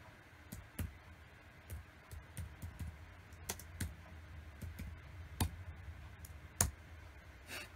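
Typing a name on a Commodore 64 keyboard during The Evil Dead game: irregular clacking keystrokes, close and fairly quiet, spread across the whole stretch with no voice.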